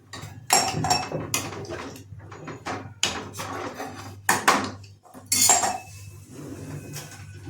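A spoon stirs masala paste in a metal cooking pot for a drumstick-leaf bhaji, with repeated loud clinks and scrapes in uneven bursts, close up and with no talk.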